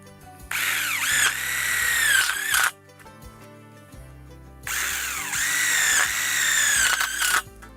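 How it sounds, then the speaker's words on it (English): A power drill drives Tech screws into a steel purlin pipe joint on a highwall greenhouse, two loud whining bursts of a few seconds each, separated by a short pause, with the pitch dipping as each screw seats. "we're going to install 2 Tech screws in our first joint here of purlin"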